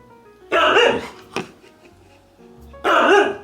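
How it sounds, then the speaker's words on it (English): Dogs bark indoors: two loud, close barks about two seconds apart, with a brief softer sound between them and no speech. "Hopefully I don't get interrupted by the dogs again"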